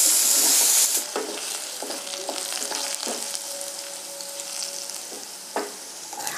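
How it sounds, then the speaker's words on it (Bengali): Vegetables and potatoes fry in hot oil in a pan, giving a continuous crackling sizzle with occasional clinks of a stirring utensil. It starts loud, then settles to a steady, moderate fry with no voices. "আমি এক এক করে সব সবজিগুলোই ভেজে নিয়েছি"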